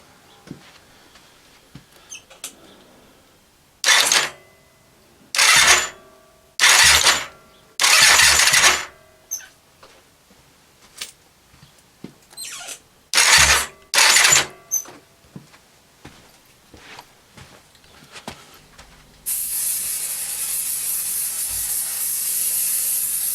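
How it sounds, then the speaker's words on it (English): A Honda VRF750 motorcycle engine cranks on its starter in several short whirring bursts separated by pauses, loud and close, followed by a steady hiss toward the end. "So with the engine turning over,"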